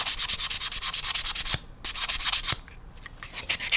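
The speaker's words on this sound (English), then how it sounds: "So what you can do is just sand over this paint" A sanding sponge rubs over paint on a model aircraft in quick, even back-and-forth strokes, close and crisp, with two brief pauses.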